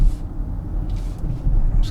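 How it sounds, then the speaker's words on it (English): A BMW X7 xDrive40i's engine drones low and steady from inside the cabin while driving, with road rumble underneath and brief hissing bursts at times. "This engine doesn't feel slow in the X7."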